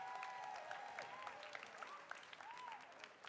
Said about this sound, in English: let's give a big round of applause to all the bands that have been on stage tonight